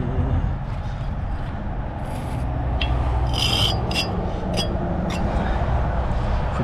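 Old mortar is scraped off a brick from a wall over 100 years old, making a continuous, close, gritty rasping with a few light clinks and faint voices in the background.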